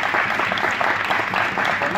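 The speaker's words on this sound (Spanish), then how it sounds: "yo también le voy a pedir a la orquesta un muy fuerte aplauso para el público que vino" An audience claps for an orchestra at a concert, a dense, even wash of applause from a full room that holds steady for a couple of seconds.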